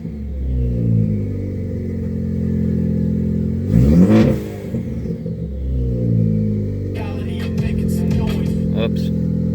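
A car engine fitted with a big turbo revs up twice in short bursts, loud and close, with a steady idle rumble between and a faint hiss near the end.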